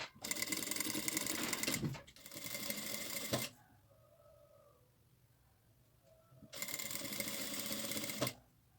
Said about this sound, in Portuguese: E vou costurar para formar o cadarço.